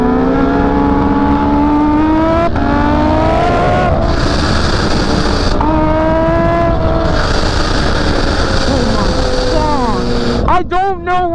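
A 300 HP Kawasaki Ninja H2 motorcycle screams through rising revs and gear changes at full throttle, loud and continuous with wind rush, close to the rider.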